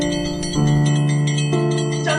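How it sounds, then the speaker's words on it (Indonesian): A loud bell rings as a theatre sound effect, sounding as sustained, resonant tones that are struck again about once a second, with no other sound around it. "Detak-detik lonceng lantang."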